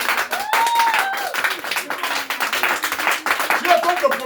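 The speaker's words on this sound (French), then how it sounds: "Donne-moi une vraie acclamation." Church congregation applauding God at a French-language sermon, dense clapping filling the space while a voice and shouts rise over it near the middle and end.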